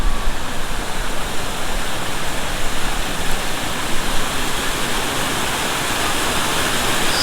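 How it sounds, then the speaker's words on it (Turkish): A waterfall on a stream at a mountain campsite in the Kaz Mountains rushes with a steady, broadband roar, constant and close throughout. "güzel bir şelale karşılıyor"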